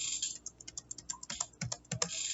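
Random values being typed on a computer keyboard, with quick, close key clacks in an uneven rhythm and a couple of heavier thuds, no speech.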